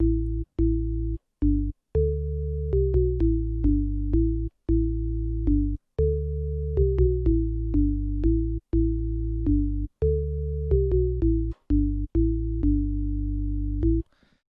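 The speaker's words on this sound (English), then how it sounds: "and we have another synth bass." A synth bass plays a steady, choppy pattern of short repeated notes with small pitch steps, looping in a clear rhythm with no voices.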